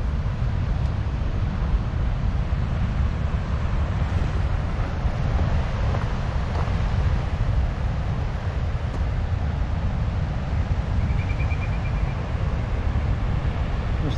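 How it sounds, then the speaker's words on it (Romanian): Rough ocean surf and strong wind beside a lighthouse on a remote coast, a constant heavy roar of breaking waves and buffeting gusts on the microphone, unbroken and loud throughout. "Supărat oceanul."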